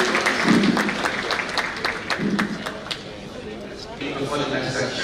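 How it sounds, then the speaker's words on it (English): Audience applause at an NHS joint annual review event, sustained clapping from a seated crowd that thins toward the end as voices start to come through. "Let's give them a round of applause"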